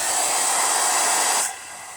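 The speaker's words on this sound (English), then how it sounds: "you can use a hair dryer or you can use a heat gun," A hair dryer blowing close and loud over a paper Bible cover, a steady broadband whoosh that cuts off abruptly near the end, leaving a quiet hum.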